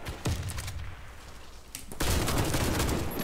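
Gunfire in the video game Warface: a sharp shot early, then a short pause before rapid continuous bursts of automatic fire dominate the second half, loud and close.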